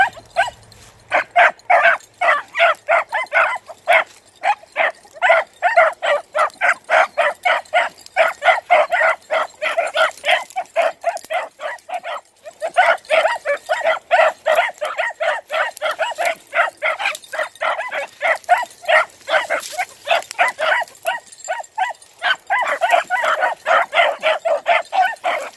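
Three seven-month-old dogs bay and yip continuously while chasing a rabbit, a loud rapid stream of overlapping barks and howls with brief gaps, heard close and without talk.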